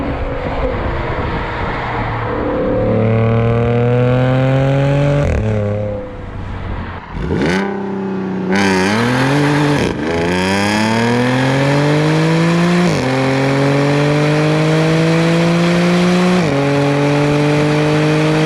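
An Audi B8 S4 running its stock exhaust, before downpipes are fitted, is heard loud and near through repeated gear pulls, each rise in engine pitch broken by a shift and one short lift-off dip midway.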